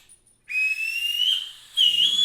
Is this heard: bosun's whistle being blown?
yes